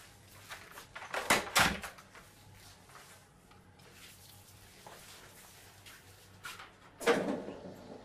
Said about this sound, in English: So I'm just gonna close the door